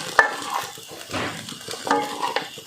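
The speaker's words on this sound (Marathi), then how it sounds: "आता यामध्ये थोडं ओलं खोबरं घालायचं आहे व परत जरासं हे फिरवून घ्यायचं आहे." Cooked sabudana khichdi with freshly grated coconut being turned in a pan, with soft scraping and stirring strokes of a spoon, some brief clinks, close and without talk.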